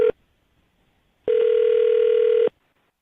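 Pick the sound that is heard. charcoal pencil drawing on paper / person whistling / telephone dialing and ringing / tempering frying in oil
telephone dialing and ringing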